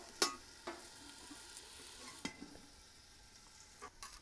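Potatoes and bacon frying on a Blackstone griddle, a faint, steady sizzle broken by a few sharp spatula scrapes and taps, close but quiet, with no voices.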